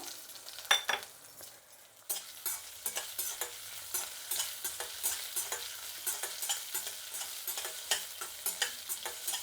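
Coriander seeds, cumin and fenugreek with ginger frying in hot oil in a pan, a steady close sizzle broken by repeated crackling pops and a few stirring scrapes, with no talking.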